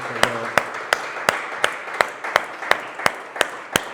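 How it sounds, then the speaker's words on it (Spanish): A church congregation claps in steady unison, about three sharp, evenly spaced claps per second, ringing clearly over a soft background murmur. "Dale un fuerte aplauso a Cristo Jesús"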